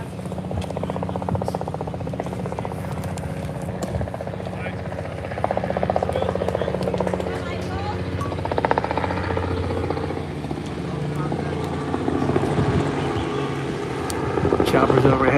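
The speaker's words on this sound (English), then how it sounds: "Choppers overhead." Helicopters pass overhead during a high school baseball game between Highland and Avon Lake, a steady rotor drone that swells at times, heard beneath ongoing commentary and crowd and field chatter.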